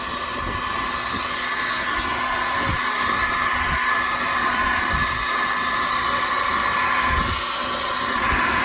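A hair dryer blows hot air onto a computer motherboard and CPU frame. Its continuous, loud, even whoosh holds steady throughout, with faint knocks and handling sounds underneath and no talking.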